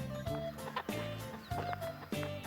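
A mother hen guarding a brood of thirteen chicks on a forest farm clucks close by in short rhythmic bursts, roughly four groups of low clucks, with faint chick peeps mixed in.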